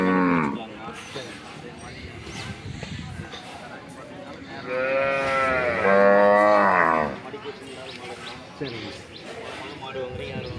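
Cattle at a rural native-breed cattle market low and moo in long, loud calls that rise and fall, and one strong moo stands out in the middle. People talk nearby throughout.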